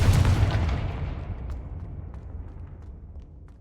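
A Confringo blasting spell goes off in Hogwarts Legacy, a single loud boom at the onset that decays into a long rumbling tail with faint scattered crackles, heard alone.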